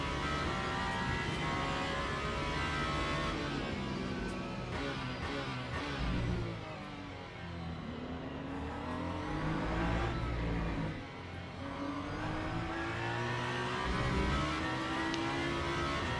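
A hypercar in Le Mans Ultimate roars close by at racing speed, its engine note climbing and dropping through gear changes. A second car's engine drones loudly and steadily underneath.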